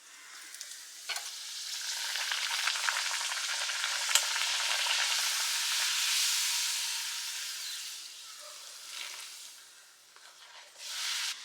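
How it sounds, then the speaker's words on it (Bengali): Puris deep frying in a pan of hot oil, a continuous close hissing sizzle that swells and fades slightly, with a few faint clicks of utensils and no speech. "তো এই যে এখানে পুরি বানিয়ে নিচ্ছি"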